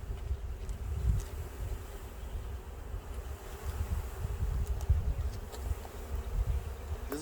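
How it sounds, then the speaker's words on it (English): Dense buzzing of many honeybees being shaken and dumped into a hive, close by, a constant droning hum with gusts of low rumble and occasional louder passes. "Shake the bees to the side a little bit, kind of getting them in a ball."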